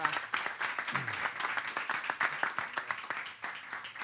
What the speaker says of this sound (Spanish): Un aplauso inmenso para ellos.